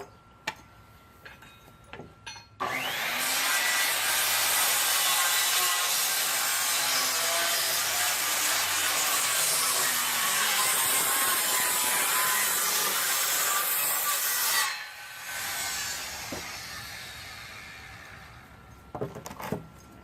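A saw cuts steadily through a wooden deck stair stringer for about twelve seconds, loud and close with no break, then stops and leaves quieter handling noises.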